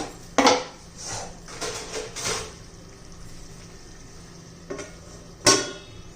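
A metal lid is set down on a pan of bitter gourd, giving a couple of sharp clanks with softer rattling knocks of cookware between, close by with no talk.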